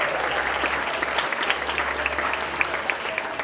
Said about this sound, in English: let's give her double applause for this year